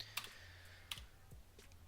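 A handful of sparse, quiet keyboard clicks as a console command is typed in Skyrim Special Edition on PC, with isolated keystrokes spaced out over a faint steady hum and no talking.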